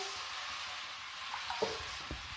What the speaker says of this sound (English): the dhapate which is ready here, we will put it on the pan like this.